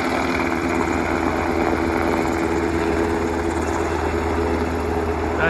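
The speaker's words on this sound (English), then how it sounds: "Military helicopter." A steady, loud rotor and engine roar of a helicopter, continuous and close, with no talking over it.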